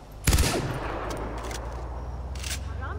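A weapon firing in the game Far Cry 4, a sharp loud burst of rapid shots followed by a long rumbling tail and a fainter later report, with no talking.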